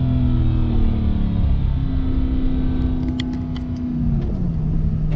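Mercedes-AMG GT S supercar driving on the road in Morocco, a loud close engine drone with low rumble from inside the car and a few sharp exhaust pops near the end.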